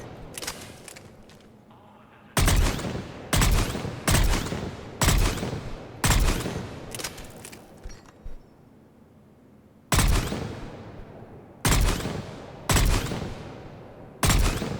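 Valkyrie rifle fire in the video game Mass Effect 3: loud, sharp bursts of shots ring out in a steady rhythm, each with a decaying tail. The bursts are separated by short pauses and come after a quieter lead-in.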